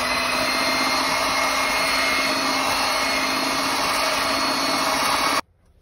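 An electric mixer beats eggs with salt and sugar, a loud, constant motor whine that runs for about five seconds and then cuts off abruptly.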